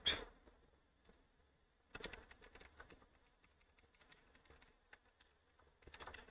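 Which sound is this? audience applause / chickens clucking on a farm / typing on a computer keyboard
typing on a computer keyboard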